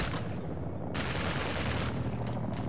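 Helicopter gunfire raining onto a vehicle in the Modern Warfare II campaign, a sustained roaring burst of rapid shots with booming low end, loud and close throughout.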